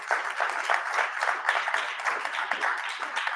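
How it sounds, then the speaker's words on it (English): Audience applause at an event introducing a panel speaker, a moderate crowd clapping in a fairly even patter, somewhat distant and medium in volume. "Please give him a round of applause."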